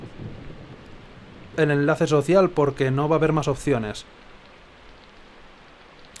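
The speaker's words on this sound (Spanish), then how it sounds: "Mierda, hoy está lloviendo." Rain falls steadily in the Persona 4 Golden video game with low thunder beneath it, a soft continuous hiss that runs throughout while someone speaks over its middle stretch.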